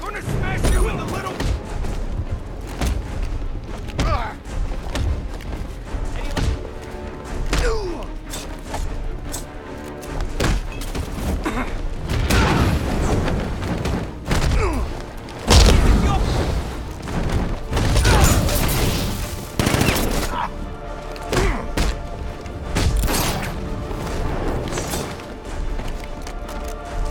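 Gunfire and heavy impacts from the video game Batman Arkham Knight, with repeated bursts, thuds and crashes layered over a busy, continuous mix of game music and effects, and voices talking throughout.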